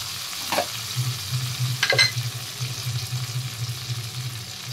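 Ground spice paste hits a hot pan for a kebab gravy, spitting with a steady sizzle while a spatula scrapes and stirs in a couple of sharp strokes, close and continuous.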